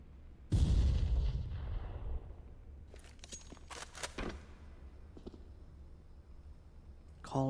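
In an esports video game match, a nuke goes off as one sudden, heavy boom. A deep rumble trails away over a couple of seconds, followed by scattered softer game effects and faint background voices.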